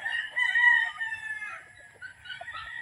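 A pure Red Kelso gamecock rooster crows at a game farm, one long drawn-out cock-a-doodle-doo that rises, holds and tapers, loud and close with faint outdoor background.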